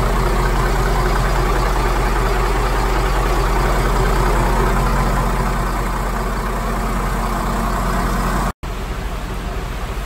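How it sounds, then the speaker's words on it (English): The twin engines and generator of a 2007 Formula 45 boat run together at idle, a loud, steady, close-up mechanical drone that barely changes, with a brief dropout near the end. "The engines are running. The generator is running."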